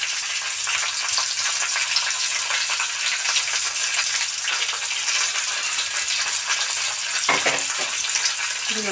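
Washed raisins frying in a pan for ada pradhaman, a dense, continuous sizzle with faint stirring, close and fairly loud, and a short clink near the end.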